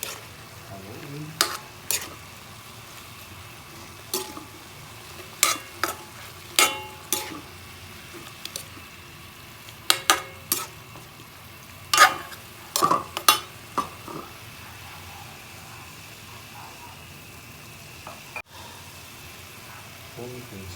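Chicken adobo frying in a pan with bay leaf, stirred at intervals: a quiet, steady simmer broken by repeated scraping and clinking strokes of a utensil against the pan, with occasional talk.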